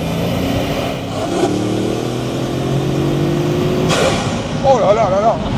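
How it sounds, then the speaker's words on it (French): The turbos of a Bugatti Mistral spool under hard acceleration, a rising whine over a deep engine roar with a sharp burst near the end, while someone talks over it. "C'est nos turbos."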